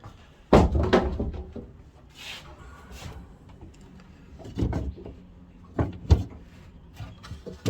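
A cabinet door is handled repeatedly: sharp wooden bangs, rattling latches and creaks, with a couple of loud knocks and quieter shuffling between.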